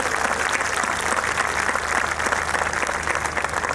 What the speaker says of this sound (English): Please have a big round of applause for all the children who did well.